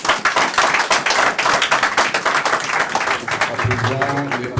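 A church congregation at a temple dedication service claps in steady, dense applause that fills the space, with voices mixed in and a low sung or spoken tone rising near the end.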